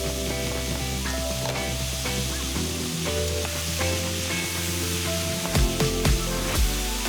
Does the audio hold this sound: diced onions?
yes